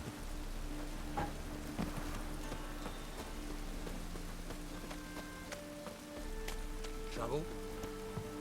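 Steady rain patters across the ground in The Witcher 3 at Kaer Morhen, a constant soft hiss with scattered drips and light clatters, while game effects and faint tones sit underneath.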